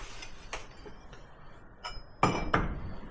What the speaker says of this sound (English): Always tap your bit of metal, just like a quick tap.